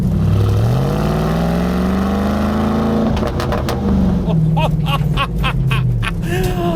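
A loud 575bhp Bowler P1 prototype Land Rover Defender off-road engine revs up close, its pitch climbing and falling in long sweeps, with overrun popping and crackling bursts as it drops off.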